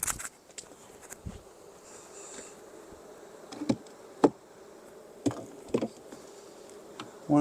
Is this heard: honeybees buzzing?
yes